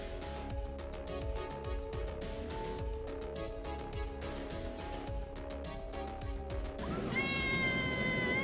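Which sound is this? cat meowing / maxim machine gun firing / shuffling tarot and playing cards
cat meowing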